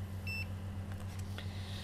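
A multimeter switched to its continuity buzzer setting gives a short, high electronic beep near the start, then a steady low hum continues with no talking.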